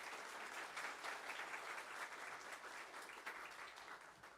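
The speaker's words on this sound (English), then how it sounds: "Can we give them a round of applause one more time?" A church audience claps in a steady, dense round of applause, faint and distant, lasting a few seconds with no voices over it.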